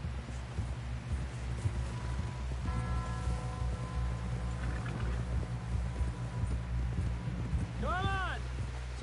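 Horse hooves clip-clop steadily in a PS4 video game, with a voice speaking over the riding, low wind in the background, and a few rising whistle-like tones near the end.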